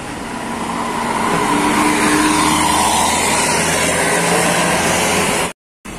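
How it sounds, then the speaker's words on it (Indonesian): A Jaya Langit tour bus rolls past on a road in Ciamis, its engine a steady, loud broadband rumble that swells and holds before cutting off abruptly near the end. "Melintas kembali, ini satu unit bus Jaya Langit."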